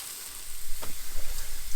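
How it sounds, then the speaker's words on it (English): Steak fries in an oiled pan with a loud, continuous sizzle and popping, close by and steady for a brief moment. "You don't need to sit here watching a steak cook there"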